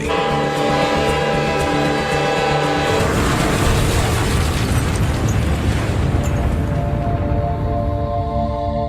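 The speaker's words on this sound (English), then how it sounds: "there was a massive train explosion in northern North Korea" A loud, deep roaring train explosion in a remote northern North Korean town swells over a rumbling mechanical drone, then settles into a sustained low rumble.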